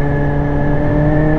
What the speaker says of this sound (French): Mais dépasser 7000, cherchez pas plus loin, la moto commence à avancer.